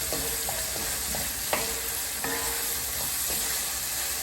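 Peppers searing in a hot pan on high heat for succotash, a steady close sizzle with a few sharp utensil clicks and scrapes as they are stirred, no voices.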